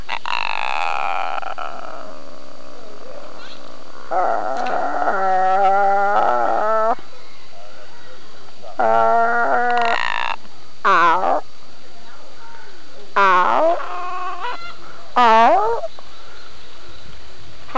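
A macaw squawks and vocalizes in several distinct bursts separated by quiet pauses, loud and close, some calls wavering and harmonic-rich.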